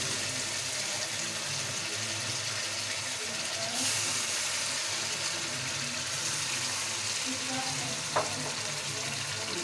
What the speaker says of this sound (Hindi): इसे चलाएं अच्छी तरह से, तेज़ आंच पे तकरीबन 5 मिनट तक इसको चलाएं।